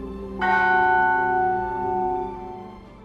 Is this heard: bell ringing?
yes